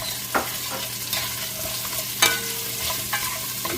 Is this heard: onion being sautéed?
yes